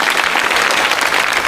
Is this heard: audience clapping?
yes